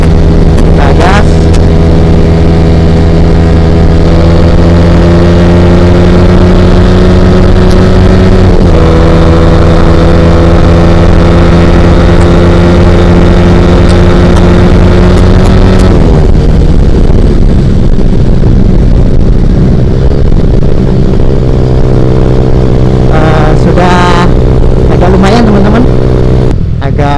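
Ported Suzuki Satria FU motorcycle engine revving loudly and close, a sustained harsh buzz holding steady pitch with sharp throttle changes and blips, sounding alone throughout.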